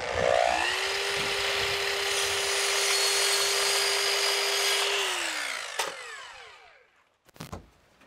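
A power saw bites into wood trim to adjust a miter cut during a home renovation, a loud steady whine for several seconds that winds down, followed by a couple of sharp knocks.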